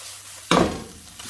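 Fajita mixture stirred in a pan, a sudden close scrape and sizzle as the spoon moves through the food, fading into a quieter frying hiss with a faint second clink.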